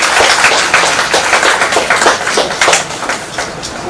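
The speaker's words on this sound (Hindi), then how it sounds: "एक बार ताली बजा दीजिए" An audience claps in welcome for a poet at a Hindi book launch, a steady crowd of hands patting at an even, moderate level for the whole stretch with no voices.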